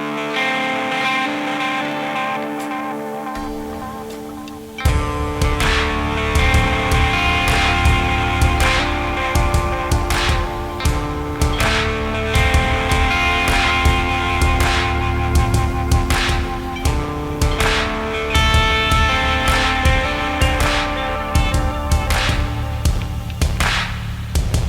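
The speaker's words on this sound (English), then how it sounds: "There's a new delay pedal in town." An Anasounds Dystopia delay pedal with modulation and a sequencer, heard through a distorted, rhythmic track with repeating echoes and pulsing, warped tones after a quieter opening.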